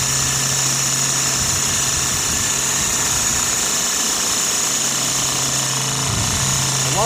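A Sirius steam engine driving a small generator runs steadily and loudly, a dense continuous mechanical clatter with a low hum underneath and no pauses.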